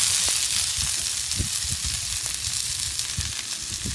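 Peppers and onions sizzle steadily on a full-size griddle pan for tailgate cooking, a dense continuous frying hiss with scattered pops and crackles throughout, close and fairly loud, with no talking.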